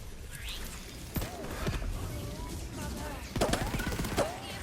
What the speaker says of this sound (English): This gun really overheats really quickly